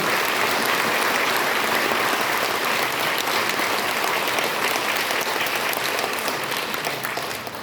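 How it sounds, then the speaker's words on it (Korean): Loud, dense applause from an audience at a formal speech event in Korea, sustained for the whole stretch and easing off slightly near the end. "우리 모두 뜨거운 박수로 화답해 주시길 감사하겠습니다."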